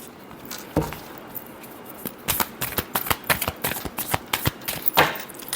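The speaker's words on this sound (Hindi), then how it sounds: "last shuffle," Tarot cards shuffled by hand in a series of crisp riffling bursts and soft flicks, close and fairly quiet, with no talking over them.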